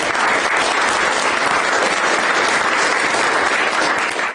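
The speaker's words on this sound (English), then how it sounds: "So a round of applause for all these folks." Dense, steady applause from a large audience at a political event on Washington legislation, a broad wash of clapping holding evenly for about four seconds before cutting off abruptly.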